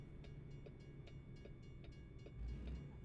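A train rolls past in American Truck Simulator's Oklahoma setting, a steady low rumble with regular clicking wheel beats and a heavier surge near the end, no talk over it.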